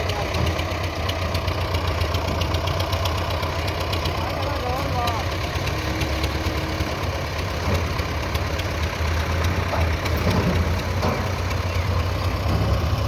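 A tractor engine idles steadily and close by, a continuous low knocking rumble that holds through the whole stretch, while people talk over it.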